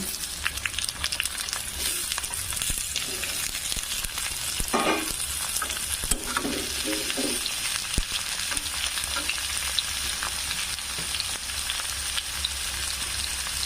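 Taro stolons (kochur loti) go into a pan of half-fried chopped onion, giving a continuous close sizzle broken by a few louder scrapes and stirring clatters around the middle, with no voices.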